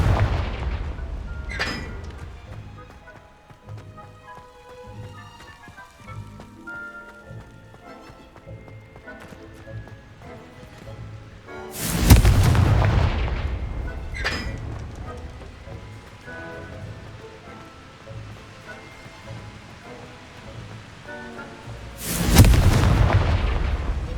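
Confringo fire spell explosions in Hogwarts Legacy, several loud booming blasts spaced well apart over a busy game soundscape with music and smaller hits.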